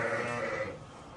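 Large, heavy rams weighing roughly 130–140 kg bleat in a single drawn-out, nasal call that fades over about a second, close by with no talk over it.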